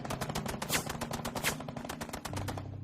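Rapid machine gun fire in a beach assault setting, with Japanese gunners firing on Marines: a dense, fast stream of sharp repeated shots at steady loudness, with a lower rumble under it near the end.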